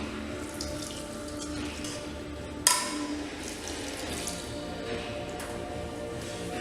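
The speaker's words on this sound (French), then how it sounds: "Un verre à eau, un grand verre à eau que je remplis d'eau." Water pours into a large drinking glass with a soft, steady trickle, marked near the middle by a brief sharp clink of the glass, all heard close and at low volume.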